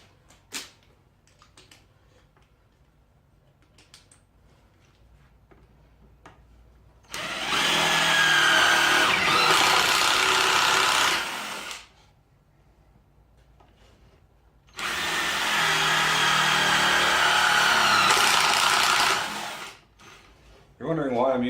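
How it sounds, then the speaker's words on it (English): An impact driver drills in two sustained bursts of about five and six seconds each, loud and close in a workshop setting, separated by quieter background noise. "You're wondering why I'm using a impact to drill because it's easier."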